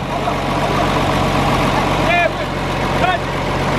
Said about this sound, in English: This old reliable tractor.